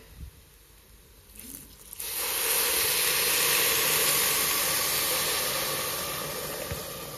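Water is poured into a hot pan of fried rice, and after a quiet moment a loud, close sizzling hiss bursts out and holds steady, slowly easing toward the end.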